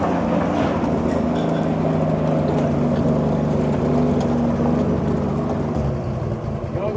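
Boat engine running after its first maintenance in 70 years, a loud steady close drone that does not change through the stretch, with no talk.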